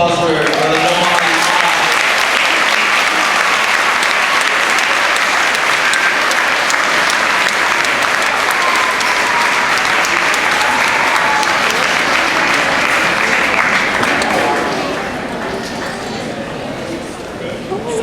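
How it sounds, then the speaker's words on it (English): A large crowd at a youth-focused Islamic talk gives a loud, sustained round of applause as the speaker comes on, with cheering mixed in. It stays dense and steady for about fifteen seconds before it eases down. "So can we get a big round of applause for Brother Nouman Ali?"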